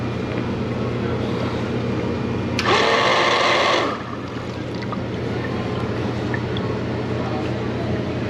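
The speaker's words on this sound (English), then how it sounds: "Pump sounds terrible." A failing pump in a Hoshizaki ice machine, heard as a steady mechanical hum with a loud harsh rattling burst lasting about a second before settling back to the drone.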